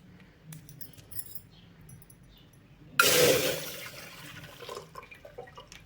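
Milk suddenly pours into a pot in a steady splashing stream after a few seconds of quiet handling noises, then tapers off.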